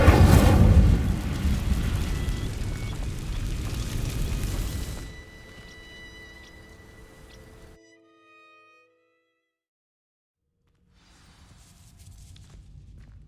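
Incendio fire spell igniting dry vines in the Hogwarts Legacy video game, a loud, rushing burst of flame for several seconds that drops to a thin crackling tail, then near silence.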